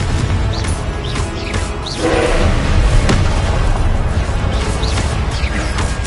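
Confringo fire-blast spell in the video game Hogwarts Legacy, bursting with a loud, booming explosion that rolls on as a sustained, rumbling roar over constant background noise.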